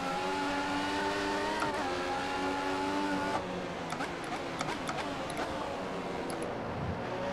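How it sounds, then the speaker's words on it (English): An F1 car in the F1 2014 game at Malaysia qualifying holds a steady high engine whine, then drops through quick downshifts with gear-change blips, loud and close, with light talk faintly underneath. "That's nice hearing that downshift and steering wheel"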